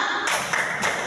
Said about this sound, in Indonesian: yuk tepuk hebat buat Hamsidan, Fadlan